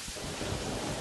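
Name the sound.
rain and thunder in the video game Terraria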